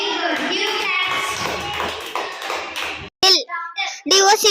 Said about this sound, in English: Give claps.